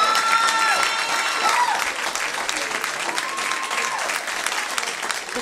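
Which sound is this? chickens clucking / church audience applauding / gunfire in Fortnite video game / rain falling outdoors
church audience applauding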